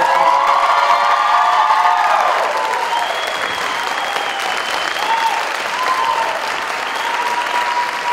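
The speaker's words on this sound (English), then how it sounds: "You can applaud for your candidate." Loud, sustained audience applause and some cheering for a sheriff candidate at a 2017 candidate forum in Pulaski County, continuous clapping throughout with a few voices rising over it.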